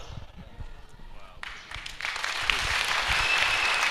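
Applause from a church congregation swells from scattered claps into a dense, sustained round of clapping, with voices audible faintly underneath at first.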